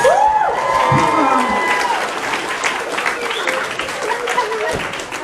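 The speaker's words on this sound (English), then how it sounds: "So can we get a massive round of applause for our 3 winners?" A crowd at a comic-con cosplay contest claps and cheers loudly for three winners, with shouts rising over sustained applause and voices mixed in.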